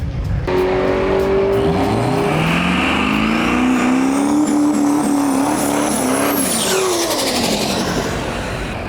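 A Chevy Nova with a Duramax diesel swap launches down a drag strip, its engine roaring loud and close with rising revs through a shift, running steadily for the whole stretch without talk.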